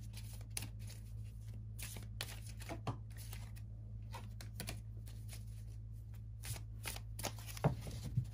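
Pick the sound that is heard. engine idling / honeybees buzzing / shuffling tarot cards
shuffling tarot cards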